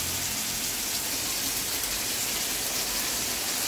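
Steady, dense hiss of rain falling, constant and even throughout with no voices.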